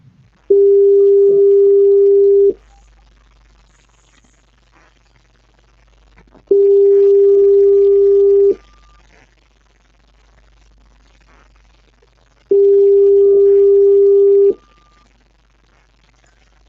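A telephone busy tone sounds after a cut-off call, three loud, steady two-second beeps separated by pauses, clear and alone against a quiet line.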